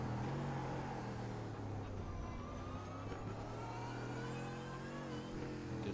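A GT3 race car in the iRacing video game at Interlagos accelerates with a steady, loud engine note and climbing harmonics that shift with gear changes, continuous with no voice.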